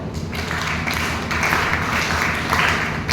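Dense, loud applause from an audience at an Arya Veer Dal introductory gathering, a steady wash of many hands clapping that holds throughout without a break.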